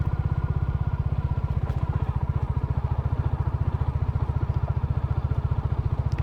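A Royal Enfield Classic motorcycle chugs along an off-road trail at low speed, its single-cylinder engine thumping in a steady, even pulse close to the listener, with no voices over it.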